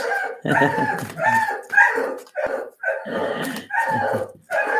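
A dog barks repeatedly up close in short, loud bursts with brief pauses between them, continuing through the whole stretch without any talking.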